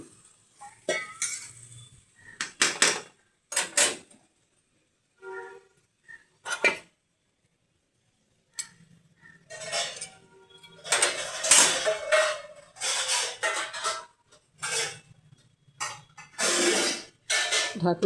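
Lid set on a cooking pot of potatoes boiling in a little water, giving a scattering of metallic clanks and clinks in short bursts separated by quiet gaps, close by.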